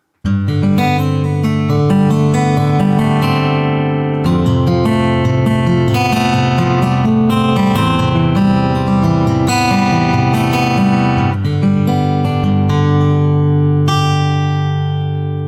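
Layered acoustic guitar strums and picked notes from the Orange Tree Samples Evolution Boutique Acoustic sample library ring out continuously, rich and full with a lush, sustained texture and no voices.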